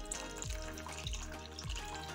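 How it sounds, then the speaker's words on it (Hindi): Cold water poured over freshly boiled and drained Maggi noodles in a home kitchen, a steady splashing, running-water wash that carries on close and continuous throughout, with no talk. "इसके ऊपर ठंडा पानी डाल देंगे"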